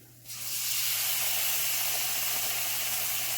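Tomato sauce hits hot rice in a pan and bursts into a loud, sudden sizzle that jumps up and holds as a dense, steady hiss.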